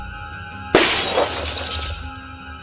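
Glass shatters in one sharp, loud crash after a short quiet stretch, followed by a bright scatter of tinkling fragments that fades out.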